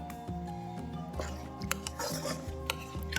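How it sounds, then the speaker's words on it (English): Food being stirred in a large Viking 6.4 quart sauté pan, with scraping and clinking of a utensil against the pan in short repeated strokes under a steady background hum. "I'm just gonna stir this through a little bit."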